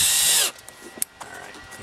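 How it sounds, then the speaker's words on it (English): A power drill drives a screw to mount an LED floodlight, giving a loud high-pitched whir for half a second before stopping abruptly, followed by faint clicks and taps close by. "I know I'm going to drive a screw into here."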